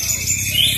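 A white-rumped shama (murai batu) sings during a songbird contest, giving bright high whistled phrases over low background murmur and a faint cooing, heard close and clear for under a second.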